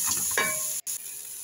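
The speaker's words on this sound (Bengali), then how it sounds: "এখন শুকনা কালো লেবু, জিরা, দারচিনি, লং, গোলমরিচ, এলাচ এগুলো দিয়ে দিব পেঁয়াজ রসুনের সাথে ভাজার জন্য।" Cumin, cinnamon, cloves, black pepper, cardamom and dried black lime frying with onion and garlic in a cooking pot, a steady close sizzle with a short stirring scrape and a brief break near the end.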